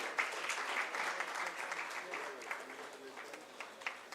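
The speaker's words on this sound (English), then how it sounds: "Huge round of applause for Dr." An audience at a Foundation Day award ceremony claps for a scientist receiving an honor, a fairly faint, steady patter of applause in a hall, slightly fading toward the end.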